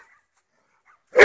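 A fighting dog gives a single loud, close bark after near silence, short and sharp at the very end.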